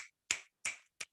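Three sharp finger snaps from an audience at a slam poetry bout, spaced evenly with short silences between, fairly close and clear.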